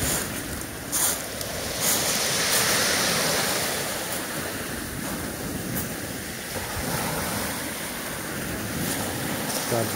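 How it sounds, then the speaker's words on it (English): Sea waves breaking on the beach below Positano on the Amalfi Coast, a continuous loud wash of surf with wind buffeting the microphone, no voices. "Glad to show you the waves, the water is"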